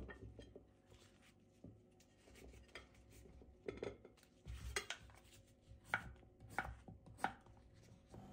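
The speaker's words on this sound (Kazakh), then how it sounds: "Енді асқабақтарды тураймыз" A knife chops pumpkin on a cutting board in irregular, sharp knocks that grow more frequent toward the end, quiet and close.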